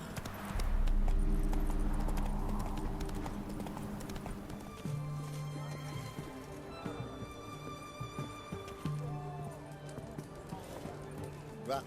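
A horse gallops in The Witcher 3, its steady rhythmic clip-clop of hooves running throughout, loudest at the start, with a game voice speaking over part of it.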